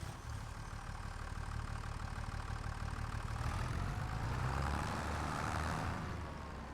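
A tractor engine in Farming Simulator 25 runs at a steady, continuous drone, moderately loud throughout, swelling slightly toward the end, with no talking.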